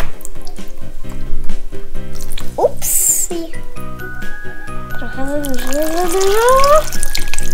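Water is poured into an Enchantimals toy underwater mermaid playground, a trickling, splashing stream running under lively, close talk.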